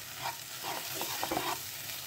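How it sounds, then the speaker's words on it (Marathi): Ground spices such as chilli powder, coriander powder and turmeric sizzle in hot oil in a pan, with soft scraping strokes as they are stirred close up. "आता हे तिखट पण छान परतून घ्यायचे आहे, तिखट कच्चे राहता कामा नये।"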